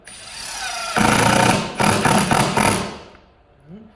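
A power drill whirs in several short, loud bursts, pausing briefly between them, as screws are driven into a wooden board; the motor then trails off.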